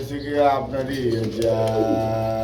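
A pair of pigeons at a pigeon seller's stall coo in low, throaty, rolling calls, close by, with a voice talking over them.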